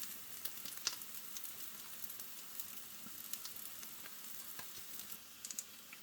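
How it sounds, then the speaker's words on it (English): Eggs frying in a pan beside Swedish meatballs, a quiet continuous sizzle dotted with small pops and crackles, heard alone without talk. "watching me fry some eggs"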